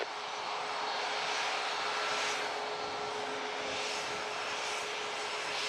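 A Boeing 737 airliner landing at Montego Bay, Jamaica, a loud, steady broadband jet roar that holds evenly throughout with no voices.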